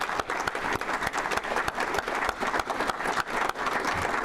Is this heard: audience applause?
yes